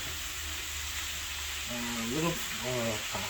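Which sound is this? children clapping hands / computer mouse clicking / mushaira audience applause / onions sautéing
onions sautéing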